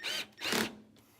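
A handheld drill runs in two short bursts, each a harsh whirring spin of a fraction of a second, with a brief faint mechanical rattle after them.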